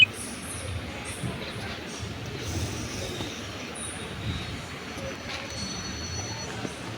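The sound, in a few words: train arriving on railway tracks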